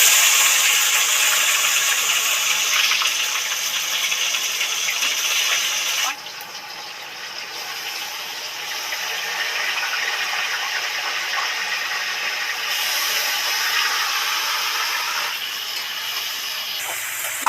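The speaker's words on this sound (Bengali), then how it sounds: "বন্ধুরা তেল একদম গরম হয়ে গেছে, এবার ম্যারিনেট করা মাংসটা উঠিয়ে দিচ্ছি।" Marinated chicken hitting very hot oil for a Bengali chicken curry, a loud steady sizzle and hiss that drops briefly then carries on bubbling and crackling close by.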